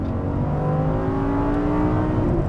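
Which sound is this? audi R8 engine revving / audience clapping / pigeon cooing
audi R8 engine revving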